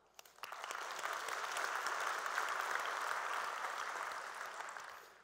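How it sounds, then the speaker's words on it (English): A conference audience applauds in a broad sustained wash of clapping. It swells quickly, holds steady for several seconds, then slowly tapers, heard from within the hall with no talking over it. "So one last big round of applause for them being the Innovation Award winner now."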